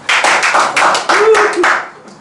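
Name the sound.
hand clapping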